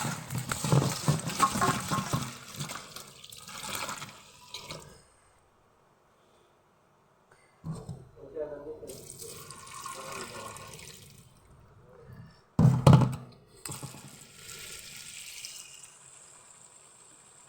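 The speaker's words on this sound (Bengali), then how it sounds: "এখন ডালগুলো ধুয়ে দিয়ে দেব" Lentils are rinsed in water in a home kitchen, with splashing and swishing in several bursts separated by quiet pauses, close by and moderately loud.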